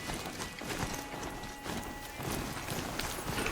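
Rapid rhythmic clip-clop of horse hooves galloping in the video game Horizon Zero Dawn, steady and fairly close, over a dense background of game noise.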